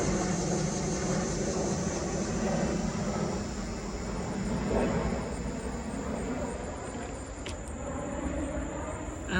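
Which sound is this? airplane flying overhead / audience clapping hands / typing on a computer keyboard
airplane flying overhead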